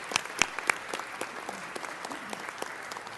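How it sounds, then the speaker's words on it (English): City council meeting audience gives a short, faint round of applause, scattered claps rising and thinning out over a few seconds. "Give yourselves a round of applause."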